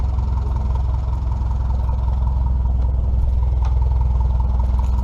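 A tractor engine, not firing on all cylinders, idles nearby at a threshing show, a steady low chugging rumble with an even rhythm throughout.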